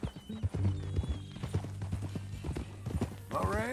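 Horse hooves clop steadily at a walking rhythm in Red Dead Redemption 2, close and clear, with a horse whinnying briefly near the end and talk from riders over the hoofbeats.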